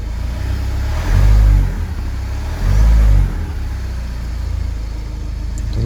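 Jaguar car engine revved twice in quick succession, two loud low throttle blips rising over a steady idle, close by, with no talking.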